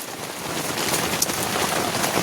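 Steady rain pattering down with an even hiss, dense and constant throughout, no voices.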